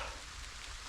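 Steady rain falls in a forest in Polesia in June, a dense continuous hiss of drops on leaves and ground, close and even throughout with no voices.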